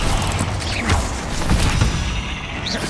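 Bombarda blasting spell cast in the video game Hogwarts Legacy, a dense crashing burst with mechanical creaks and rumbling booms lasting a few seconds, loud and close.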